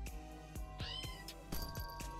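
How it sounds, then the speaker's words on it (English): A kitten meows in the video game There Is No Game, with several short, faint mews rising and falling over a steady background hum. "I have a feeling this kitten is asking us to help him out."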